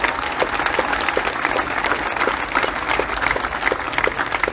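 Audience applause at a Stater Bros. Markets store grand opening and ribbon cutting ceremony, a steady dense wash of many hands clapping throughout at even loudness, with no voices.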